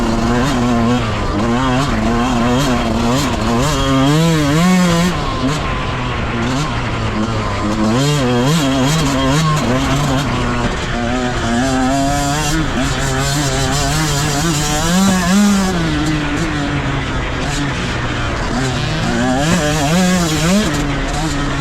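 The fuel-injected engine of a 2023 KTM 125 SX dirt bike revs repeatedly and loudly at close range, with a raspy two-stroke tone that rises and falls in rapid throttle blips for the whole stretch.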